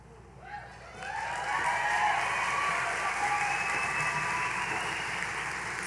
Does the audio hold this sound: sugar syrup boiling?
no